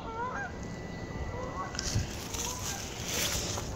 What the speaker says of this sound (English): There's some geese up there.